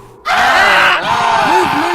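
Boys screaming together in a spooky story, a loud sustained burst of yells that starts abruptly and carries on, wavering and shifting in pitch as they flee into the night.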